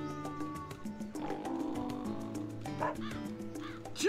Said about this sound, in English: So you can hit square to bark.